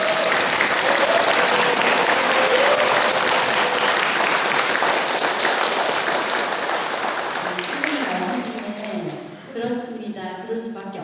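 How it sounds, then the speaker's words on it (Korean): Loud, sustained applause from a large audience after a priest's Lenten lecture fills most of the clip, then dies away as a voice begins speaking. "신부님께 열렬한 박수 부탁드립니다."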